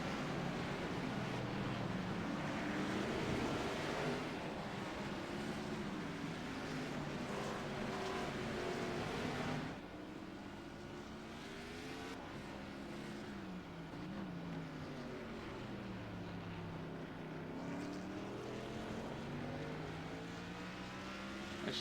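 Race car engine in a racing video game at Circuito de Navarra, droning loudly and sweeping up and down in pitch through gear changes and corners, steady with no voices.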